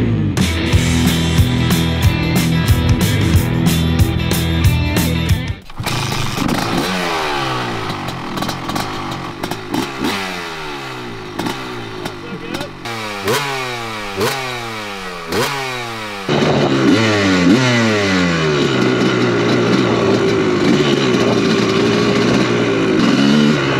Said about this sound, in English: if you can't wait to fire this two-stroke up, spin some laps